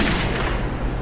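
Gunfire from a weapon in the video game Metro 2033, a loud dense burst of booming shots filling the whole moment with no talking.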